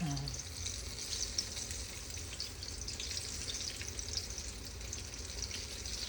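Sliced eggplant fries in plenty of oil, a soft steady sizzle with faint crackles and light watery splatter, heard fairly quietly from a short distance with no talking.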